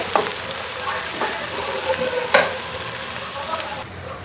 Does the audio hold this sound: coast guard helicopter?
no